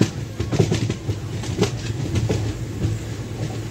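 The Sabari Express, running from Secunderabad Junction to Trivandrum Central, pulls away from a curved station platform with a steady rumble and rhythmic clickety-clack of wheels over rail joints, loud and close throughout.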